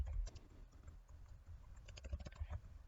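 Computer keyboard typing during entry of a payee name in personal finance software, a quiet run of close, irregular key clicks with a few brief pauses.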